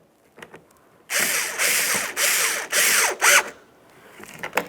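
A screw is power-driven into the front license plate bracket on a 2012–2015 Honda Civic, four loud close bursts of mechanical whirring and ratcheting, the last one shorter, with quiet tool clicks before and after.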